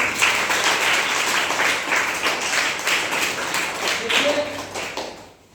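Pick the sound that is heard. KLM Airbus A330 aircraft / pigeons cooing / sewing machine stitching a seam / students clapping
students clapping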